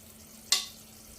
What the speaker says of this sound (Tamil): இப்போ நல்லா மிக்ஸ் பண்ணி கொடுங்க. நம்ம சுகர் சிரப்பும் கடலை மாவும் நல்லா மிக்ஸ் ஆகணும்.